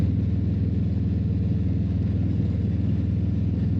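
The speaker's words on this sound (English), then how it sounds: "We're gonna downshift here just so we don't fall off the road." A Harley-Davidson motorcycle on an Oklahoma biker road, its engine giving a steady, loud, low rumble with a throbbing pulse as it downshifts, wind noise beneath and no talk.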